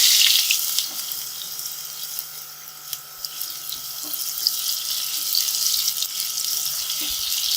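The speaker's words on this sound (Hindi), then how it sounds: "हल्का सा ऑयल गर्म हो जाए तो आलू डालेंगे इसमें।" Potatoes fry in hot oil with a steady, soft hissing sizzle and occasional faint crackles, continuous and moderately quiet throughout.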